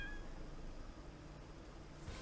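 A faint, brief cat meow from the WarioWare Gold minigame collection on Nintendo 3DS sounds at the very start, then quiet background noise follows.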